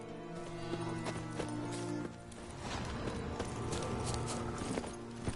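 Roach, a horse in The Witcher 3 game, trotting with a steady clip-clop of hooves over a dense layer of game music and ambience, with a faint whinny, fairly quiet.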